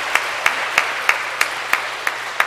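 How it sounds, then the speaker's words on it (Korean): Slow, evenly spaced claps ring out about three times a second at a baptism ceremony honoring church volunteers, sounding thin and sparse, like a single clapper or a few people, with no talk. "박수"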